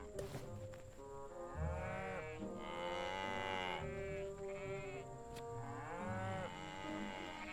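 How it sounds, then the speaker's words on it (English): Video game cattle moo and low over one another in a continuous stream, layered bellowing calls with a steady background drone, no talking. "Oh, and bought baby cows."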